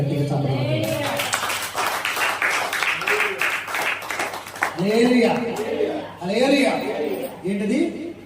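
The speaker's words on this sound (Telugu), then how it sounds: "గట్టిగా చప్పట్లు." A church congregation claps loudly for the first few seconds, a dense burst of hands that fades as someone speaks and people chuckle and laugh.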